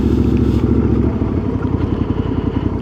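A motorcycle engine drones steadily nearby on a cold day, its low rumbling pulse loud and continuous as it rides past.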